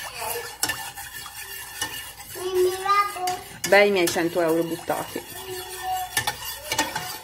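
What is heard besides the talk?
stirring corn starch mixture in a pot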